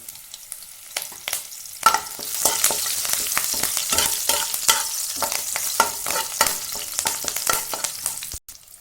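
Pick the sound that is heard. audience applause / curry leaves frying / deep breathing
curry leaves frying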